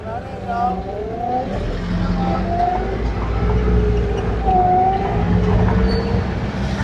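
A 4x4 vehicle climbs steep mountain bends in the Margalla Hills in high gear. Its engine drones steadily and close by with rising and falling whine tones, and a voice may be faintly present underneath.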